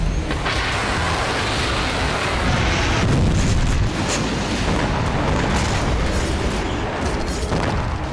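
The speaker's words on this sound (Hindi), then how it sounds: "कत्यूशा रॉकेट लॉन्चर, जिसका इस्तेमाल हिजबुल्लाह ने इजरायल को दहलाने के लिए किया" Katyusha rocket launcher fire heard as a loud, sustained rumbling roar of booms and blasts, with a swelling surge near the middle, no voices.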